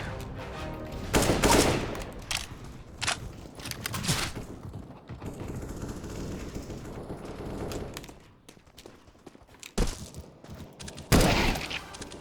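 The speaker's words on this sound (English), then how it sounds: "Nice shot, my friend. Very good shooting." Gunfire in the video game CS:GO, with loud bursts of shots in clusters and single cracks scattered across the clip and a heavy volley near the end.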